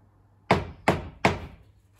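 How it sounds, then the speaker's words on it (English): Three firm knocks on a wooden door in a quick, slightly uneven sequence, close and clear, each ringing briefly in a quiet room. "But then there was another knock at the door."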